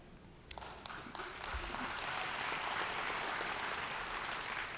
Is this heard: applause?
yes